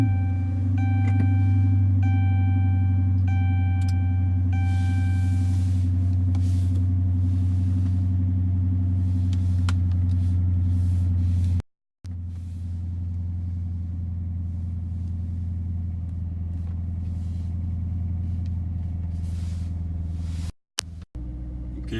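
A 2014 Dodge fitted with an aFe Magnum FORCE cold air intake runs in cold weather, a steady low engine rumble with a faint whine early on, close and continuous with two brief dropouts and no talking.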